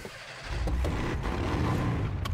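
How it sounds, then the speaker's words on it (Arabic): A tuned car's turbocharged engine in a GTA roleplay game, a steady loud rumbling drone after a short quiet start, held at close range without pause. "اسمع التيربو"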